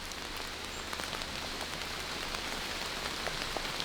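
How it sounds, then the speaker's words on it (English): Steady rain falling through woodland, a dense even hiss of drops on leaves and ground with scattered nearby drips, continuous and close for the whole stretch with no talking. "I love having the rain. Makes everything lush."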